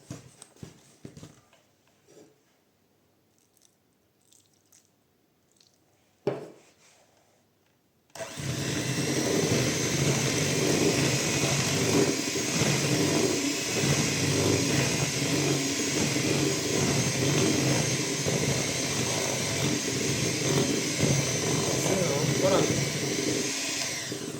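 An electric mixer whirs loudly and steadily through chocolate buttercream frosting as milk is added bit by bit. Before it starts there are quiet kitchen clatters and a sharp knock.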